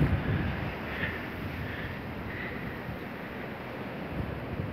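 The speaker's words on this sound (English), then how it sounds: "here comes the wind" Blizzard wind from Winter Storm Jonas roars steadily as a broad, constant rush with gusty swells, close and buffeting the microphone throughout, with no talking.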